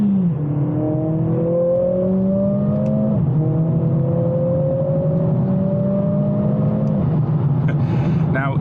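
A Mercedes CLA45 AMG engine revs hard through paddle-shift downshifts, its rising whine climbing and then dropping sharply near three and seven seconds, sitting loud and close over a steady road rumble with no talking.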